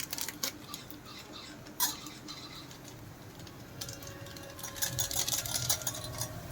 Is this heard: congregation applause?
no